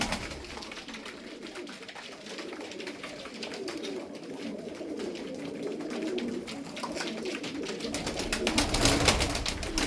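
A flock of domestic flying pigeons coo and murmur continuously nearby, with soft fluttering and rustling. The flock noise gradually grows louder toward the end.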